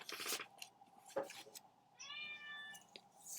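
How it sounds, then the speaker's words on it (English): An indoor house cat gives a single clear, drawn-out meow near the middle of the clip, fairly close but soft, after a few scattered rustles and clicks. "Wow, can you hear her? That's our cat."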